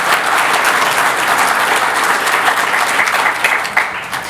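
Audience at an annual community meeting applauding new and returning board members, a dense, steady wash of clapping held at even loudness throughout, with a few sharper claps near the end.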